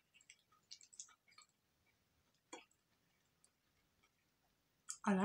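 Chewing crunchy broccoli in a tuna and veggie pasta, a series of soft, close crunches and wet bites at irregular intervals, quiet with gaps of near silence between them.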